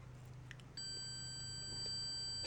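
A multimeter's continuity beeper sounds while it tests an automotive fuse. After a short lead-in the tone starts and holds as a steady, thin, high whine that stays quiet and runs on alone to the end.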